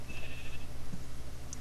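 Sheep bleating in Minecraft, a short, pulsing, wavering bleat that repeats rapidly in a quick rhythm, clear and close, over a faint background hum.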